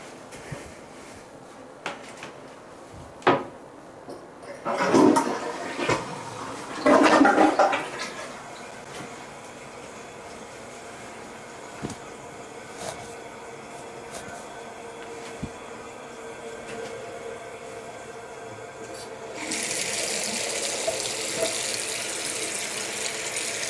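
Water spilled close to the microphone, with a few splashy bursts followed later by a steady, hissing pour. No one speaks.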